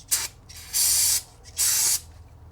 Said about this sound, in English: we're just going to give stuff a spray here.